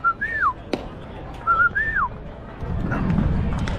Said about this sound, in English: We have a family whistle.